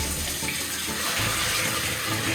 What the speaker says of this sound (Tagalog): Palabas pa tayo ng tubig.